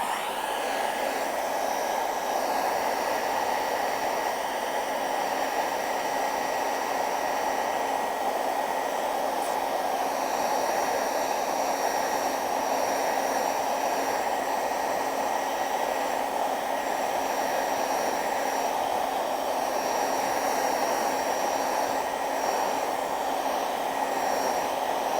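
A hair dryer blows over a still life painting, a steady loud whirring rush with a constant motor whine that runs unbroken from start to finish, no voices over it.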